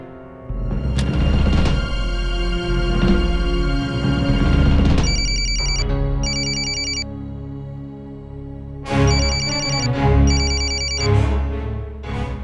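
A telephone ringing in a Hindi TV drama scene, bright electronic bursts of rings in paired groups over loud sustained dramatic background music, with pauses between the ring sets.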